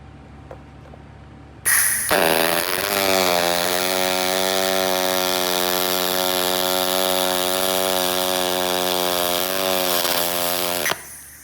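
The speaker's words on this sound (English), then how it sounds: "Now let's weld the other side." Spool gun MIG welding with 5000 series aluminium wire, a loud steady buzzing arc that starts abruptly, holds evenly for about nine seconds, then cuts off.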